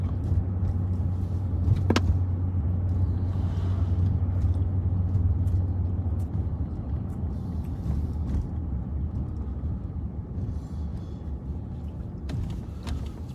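A truck engine rumbles past on a street during a police patrol, a heavy, steady low drone that stays loud throughout, with a few faint clicks and no talking.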